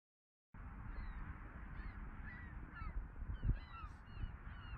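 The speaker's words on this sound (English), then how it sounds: "Look at all these birds." A flock of geese calls overhead outdoors, a scatter of repeated honks and caws at moderate distance over a continuous low rumble of background noise, with no voices.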